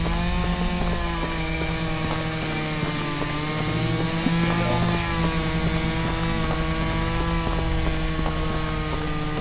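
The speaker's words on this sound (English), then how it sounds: "Is that a fucking chainsaw?" A chainsaw in a video game revs with a loud, continuous, rasping engine whine that wavers slightly in pitch, running steadily and close throughout with no talk.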